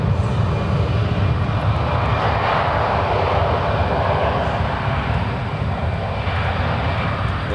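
A 23-year-old United Boeing 777-200, formerly flown by Continental, takes off from San Francisco International bound for London Heathrow, a loud, deep, steady jet roar with rumbling low end that holds constant throughout.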